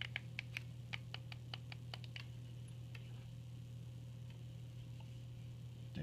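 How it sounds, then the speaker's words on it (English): Buttons on a Pioneer4You IPV 3 LI 165W vape mod are pressed in a quick run of about a dozen sharp, close clicks, then a few scattered clicks over a steady low hum. "The buttons are very clicky."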